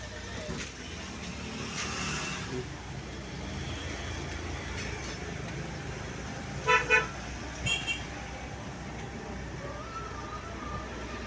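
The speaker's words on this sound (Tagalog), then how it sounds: "Punong-puno na yung kalsada." Heavy traffic jam on a packed road, with a constant low rumble of idling and creeping vehicles and a couple of short car horn toots near the middle, then a fainter honk, heard from nearby.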